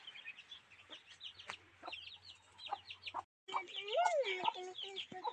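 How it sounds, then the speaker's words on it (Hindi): A hen clucks among chicks in a rural backyard garden in India, faint soft clucks and small chirps mixed with other birdsong, the fowl sounding louder and nearer toward the end. "ये हमारी प्यारी सी मुर्गी"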